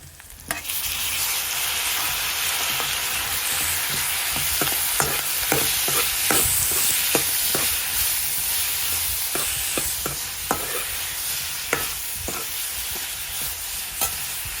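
Onions and tomatoes fry in a pan for a tomato dried-fish curry, giving a steady loud sizzle throughout with repeated scraping clicks from stirring and no talk.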